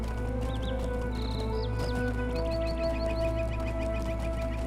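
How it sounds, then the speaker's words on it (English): Birds chirp in a Lord of the Rings Online game world, short high whistled calls and quick chirps repeating over a steady low ambient hum, moderately faint, with no talking. "I hear birds in the game."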